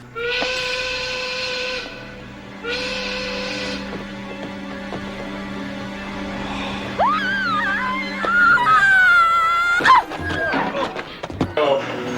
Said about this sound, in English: Cue ship whistle